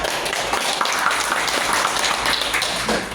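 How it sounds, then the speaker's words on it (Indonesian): Applause from a fourth-grade elementary classroom, a steady wash of children's clapping, close and fairly loud, lasting a few seconds with no talk over it. "Beri tepuk tangan untuk"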